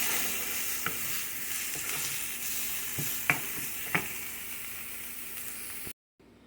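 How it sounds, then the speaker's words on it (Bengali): Steady sizzling of garlic and onion frying in a pan with a few sharp clicks of a spoon stirring, continuous and close, then it cuts out abruptly near the end. "রসুন আর পেঁয়াজটা ভাজা হয়ে গেছে"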